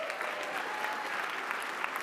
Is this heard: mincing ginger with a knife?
no